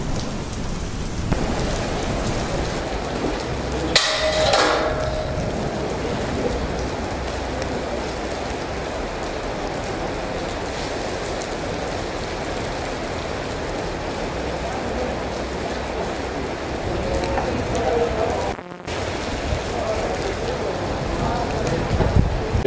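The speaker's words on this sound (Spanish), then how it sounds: "Estamos grabando el equipo de sonido Rumba Caliente y pues ya se nos vino la lluvia." Steady rain pours onto a tarp over an outdoor sound system setup, a dense continuous hiss with a few louder gusts and patters, close and loud throughout.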